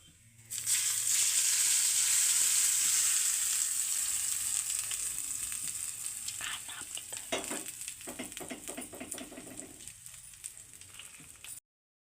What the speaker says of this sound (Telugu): తాలింపు వేసుకుందాం